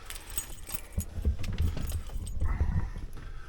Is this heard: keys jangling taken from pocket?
yes